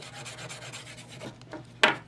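A key scrapes across the back case of a Moto X phone in a series of close, gritty rubbing strokes, ending in one sharper, louder scratch, with no talking.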